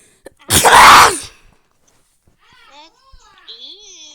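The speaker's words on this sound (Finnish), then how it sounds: "Mä aivastin!" A loud, sharp child's sneeze bursts out once near the start, followed by quiet and then faint childlike chatter and voices.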